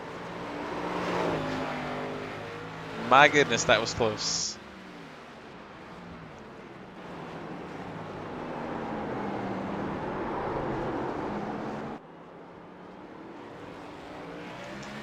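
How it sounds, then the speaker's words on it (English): Toyota and Chevy race car engines in a sim racing game at Sonoma, a continuous engine drone with a brief burst of sharp rising tones midway, running under steady commentary voices. "The way the engines sound, totally different."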